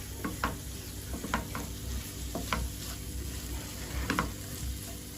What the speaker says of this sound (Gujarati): આને આપણે આવી રીતના તેલમાં જ સાંતળી લેવાના છે